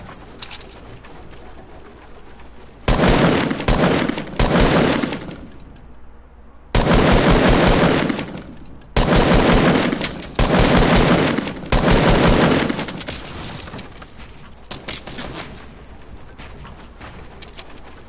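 Loud, rapid automatic gunfire from the Fortnite video game rattles out in several sustained bursts of a few seconds each, separated by quieter stretches of background game sound.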